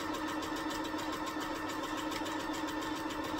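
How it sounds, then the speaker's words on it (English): A sewing machine runs steadily, stitching the end of a piece of fabric with a continuous, even mechanical whir at close range, no pauses or talking. "I'm sewing just the one end because the other ends are already sewed."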